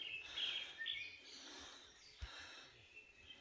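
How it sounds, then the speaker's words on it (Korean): Birds sing on a mountain trail at dawn during an overnight ridge hike near Daemisan, with faint, high chirping phrases repeating over quiet outdoor background and occasional soft handling noise. "아침에 새가 울고 있어요."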